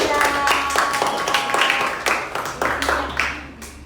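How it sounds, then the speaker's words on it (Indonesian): A class of schoolchildren clapping for group 3 in a lesson, loud sharp individual claps in an irregular rhythm, close by, with a steady low hum underneath. "Yang tepuk tangan untuk kelompok 3"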